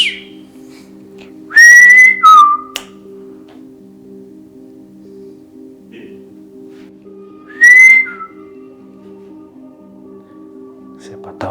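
A person whistles two short, clear rising notes a few seconds apart in a quiet space at night, with a faint steady hum underneath.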